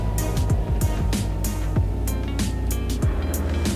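A Brabus GT900 engine in a Roblox driving game, a loud, steady, low mechanical drone with repeated short revs and gear-shift dips, heard alone without talk.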